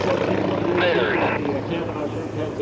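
A P-51 Mustang warbird propeller plane passes at an airshow, its engine rumble loud and continuous, with an announcer talking over it.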